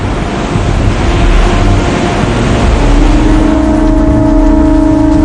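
Ocean waves break on a Peruvian shore in a loud, continuous rushing wash of surf that swells slightly, close and dominant, with wind-like hiss and no talking.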